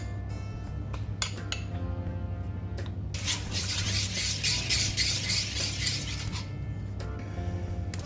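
A whisk beats a cashew custard mixture in a bowl, starting with a few sharp metallic clinks against the side and then settling into a steady, brisk scraping rattle for several seconds before tapering off.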